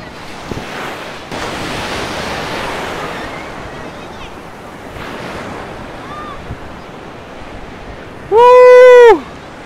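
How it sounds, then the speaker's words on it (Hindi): Sea waves washing in at a Karachi beach in hot weather, a steady broad surf roar with wind noise across the microphone, and a brief loud tonal burst near the end. "समंदर की जबरदस्त लहरें और कराची वाले इसको इस तरह से एंजॉय करते हैं"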